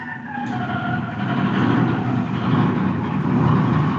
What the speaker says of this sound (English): That sounds like motorcycles.